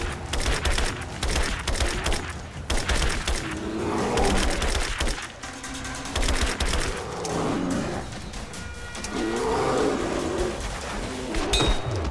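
Gunfire in the Rise of the Tomb Raider video game comes as loud, rapid, irregular bursts of shots mixed with other dense game noise, continuous through the stretch.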